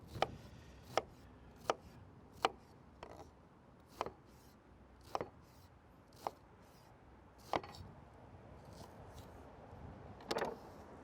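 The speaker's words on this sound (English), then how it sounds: "we're gonna slice this onion into small little dices" A knife dices an onion on a cutting board in sharp, separate chops about once a second, fairly faint and close, against a quiet kitchen background with no speech.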